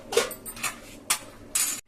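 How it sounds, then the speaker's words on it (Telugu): Lid set onto a pot of chamadumpala (taro root) curry: a few close, bright metallic clinks and scrapes in quick succession, ending abruptly, with no talking. "మూత పెట్టుకుందాం, కాసేపు మగ్గించుకోవాలి."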